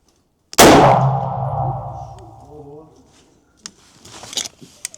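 One sharp, loud crack from an air rifle fired with no muzzle device at a target, followed by a long metallic ringing decay. Faint clicks and handling noises come afterward.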